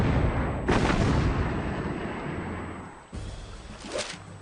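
The battleship USS New Jersey, an Iowa-class ship first in service in 1942, fires its huge naval guns: two loud, heavy booms a few seconds apart, each followed by a long, rolling rumble.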